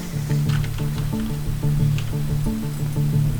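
Rhythmic, repeating squishy pumping and dripping sounds from water being extracted from the ground in the space game Take On Mars, cycling steadily at moderate loudness with no talking.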